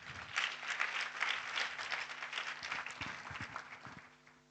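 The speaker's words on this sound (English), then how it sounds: "You can give her a better hand clap than that." Audience at the opening of the Forum on Internet Freedom in Africa 2025 in Windhoek, Namibia, applauding: dense, steady hand clapping from a crowd that fades out toward the end.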